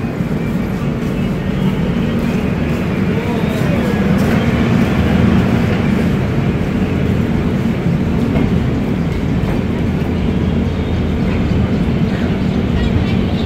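Kolkata–Jaynagar express 13135 pulling out of Madhubani station from platform 1, heard from inside the train as a steady, fairly loud rolling rumble with continuous wheel and carriage noise throughout.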